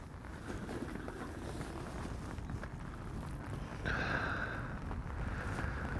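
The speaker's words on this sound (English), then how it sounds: "So it's quite windy today," Steady wind buffets the microphone at a fishing lake, a continuous broadband rush throughout with a brief higher whistling tone appearing near the end.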